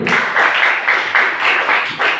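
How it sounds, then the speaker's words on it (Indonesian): Students in a computer science class applaud together, a loud, continuous patter of clapping with gentle pulses in intensity and almost no talk. "Tepuk tangan dulu."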